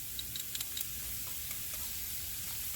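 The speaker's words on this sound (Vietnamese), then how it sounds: "Mình cứ xào cho khi nào mà nó ngã qua màu vàng này được rồi nha" Minced garlic and shallots stir-fried in a pan for Southern Vietnamese sour soup give a steady, bright sizzle with faint scraping ticks from stirring, close and continuous throughout.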